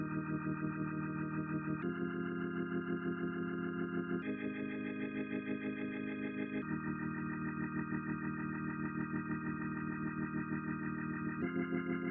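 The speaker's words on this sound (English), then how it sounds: "Another instrument that played the chord progression of the song also is an organ, and it sounds like this." An organ plays sustained chords from an Afrobeats song's progression, held steadily and changing about every two seconds, alone and with no talk.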